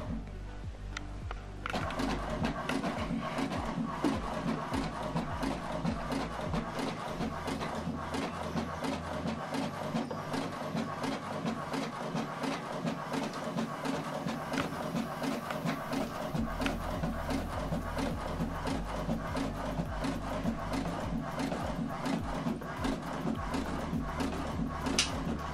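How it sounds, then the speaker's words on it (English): An HP printer printing the second page of a double-sided document, a steady mechanical whirring with rapid rhythmic clicks and feed rattles that runs continuously at close range. "And now the second page is printing."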